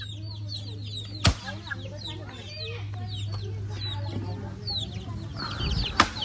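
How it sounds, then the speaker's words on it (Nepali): Chickens cluck and chatter continuously at moderate distance, with a low steady hum underneath and a couple of sharp knocks. "यहाँ चाहिँ कुखुरा रहेको छ"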